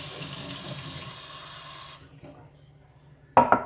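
Tap water runs into a bowl of salt-packed capers for about two seconds, then stops, followed by a short clatter or splash.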